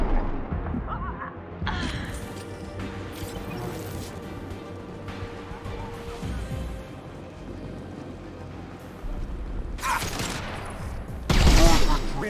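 Sustained gunfire in the game Mass Effect 2 rattles as a steady fusillade with heavier bursts near the start and end, blended with game voices calling out over the combat.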